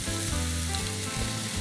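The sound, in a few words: quick frying of chopped veggie burger mixture in oil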